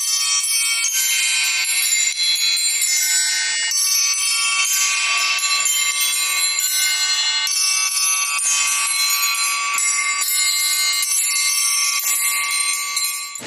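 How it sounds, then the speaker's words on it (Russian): Children from orphanages and boarding schools ring triangles and student hand bells on stage at a festival in the Alexander Nevsky Lavra, a bright, dense shimmer of overlapping metallic strikes sustained loudly throughout with no voices. "Колокольные звоны на треугольниках и ученических колокольчиках."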